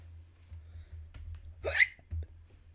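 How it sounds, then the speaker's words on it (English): A single sharp hiccup bursts out clearly against a quiet room with a low steady hum, followed by a couple of faint small sounds. "Oh, hiccups."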